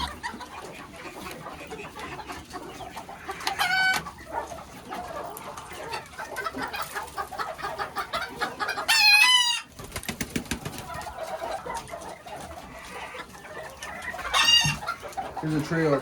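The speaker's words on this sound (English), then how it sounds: "This is a BB golden rooster. I have over 2 BB red hens." Chickens cluck throughout a backyard pen holding a BB golden rooster and BB red hens, with occasional louder squawks and a few bird calls over a busy, moderately loud background.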